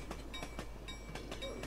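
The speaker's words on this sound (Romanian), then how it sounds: "A venit trenul, băieți!" A train arriving in a Roblox video game rolls past with steady rhythmic clickety-clack wheel beats over a continuous low rumble, moderately near, with no talk.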